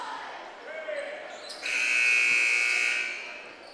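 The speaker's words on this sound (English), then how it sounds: "Buzzer sounds" Scoreboard buzzer at a varsity boys high school basketball game in a gym: a single steady electronic tone holding for about a second and a half over faint crowd murmur and a commentator's voice.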